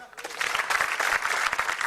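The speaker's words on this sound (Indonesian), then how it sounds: "tepuk tangan" A live studio audience at a stand-up comedy show claps in a brief, dense burst of applause, with a little crowd noise mixed in.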